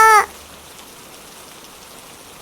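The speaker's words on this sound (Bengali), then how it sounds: "ইস, কি বৃষ্টি হচ্ছে না, আহা।" A soft, steady patter of cartoon rain continues faintly and evenly after a short voice at the opening.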